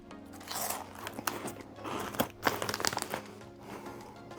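Utz cheese puffs bitten and chewed up close, with a few crisp crunches and soft crinkling at moderate volume and no talking.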